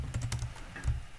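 Quick keystrokes on a computer keyboard while entering a step into a student planner, a short burst of several close, crisp taps with no speech.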